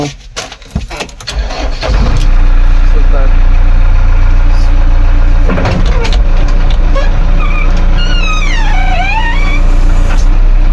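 A JCB backhoe engine cranks and catches after a couple of seconds, then settles into a loud, steady diesel idle heard up close.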